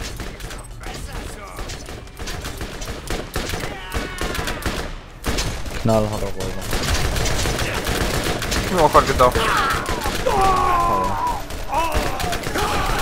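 Gunfire in the Borderlands video game comes in dense rapid bursts, loud and continuous through a hectic co-op fight, with layered weapon shots and effects while players talk over it.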